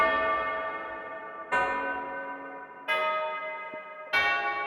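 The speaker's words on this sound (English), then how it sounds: "So we're gonna go to the bell right now." Bell notes for a type beat ring out, four struck tones spaced about every second and a half, each sharp at the start and then decaying into a long metallic ring with no voices.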